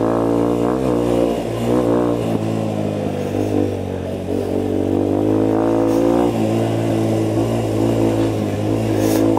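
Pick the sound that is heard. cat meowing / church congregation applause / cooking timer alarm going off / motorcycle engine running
motorcycle engine running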